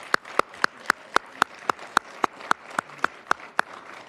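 Slow, evenly spaced single claps, about a dozen sharp hits in a steady rhythm, fairly close with little else around them.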